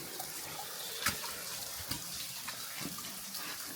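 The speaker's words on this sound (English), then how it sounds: "There's a very little waterfall." A very small waterfall inside an abandoned canal tunnel, giving a steady, soft rush of falling water with faint splashes and drips, moderately quiet with no talking.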